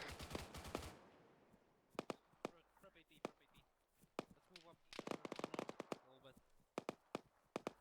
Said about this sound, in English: Sounds like another fucking BTR cannon.